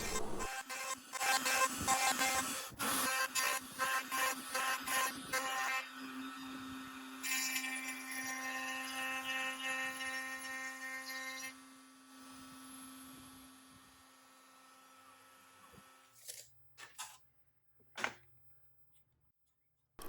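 A CNC router cuts dovetails in white oak and walnut boards with a harsh, whining roar that shifts in pitch as the bit moves. It runs steadily, then winds down into quiet with a few scattered clunks.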